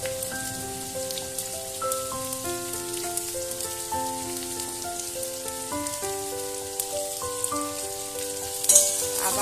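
Chopped potatoes sizzle steadily in hot oil in a pan, a continuous crackling hiss running the whole time, with a brief louder burst near the end; soft background music plays beneath it.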